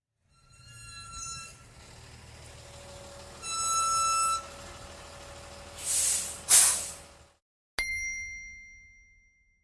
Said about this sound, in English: Lorry.